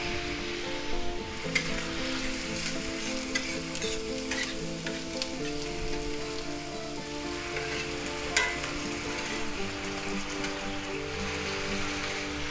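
Canned mushrooms sizzle and fry steadily in a hot pan, a continuous close crackle with a few sharper pops and stirring scrapes throughout, no talking.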